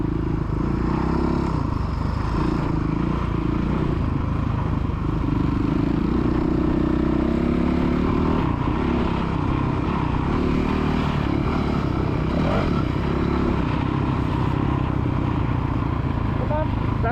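A kid's motocross bike on the Astley MX main track holds a loud, continuous engine drone with rising and falling revs, while voices call out over it.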